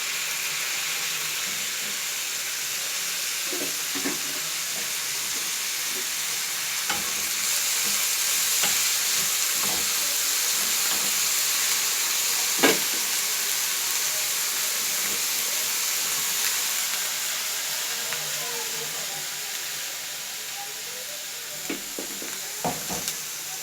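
Vegetables such as capsicum fry in hot oil in a pan while being stirred for spaghetti, giving a steady, close sizzle with occasional scraping clicks from the stirring utensil.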